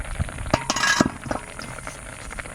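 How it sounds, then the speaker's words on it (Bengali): A lid comes off a cooking pot where taro is boiling for a hilsa curry. Brief glassy clinks and a light scrape sound over a steady kitchen hiss, close and moderately quiet. "কিছুক্ষণ সেদ্ধ করে নিয়েছি ঢাকনাটা তুলে নেব"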